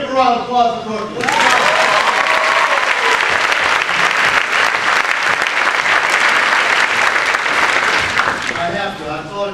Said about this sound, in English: Let's give a round of applause for Corky.